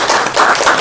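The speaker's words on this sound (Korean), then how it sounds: "우리 박정배 선생님 박수" Brief burst of dense clapping from an audience at a lecture gathering, loud and continuous for under a second with no voices.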